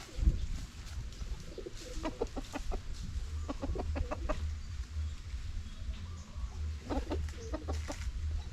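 Chickens cluck in short bursts of quick, rhythmic notes, fairly close, over a low rumbling background with quieter gaps between.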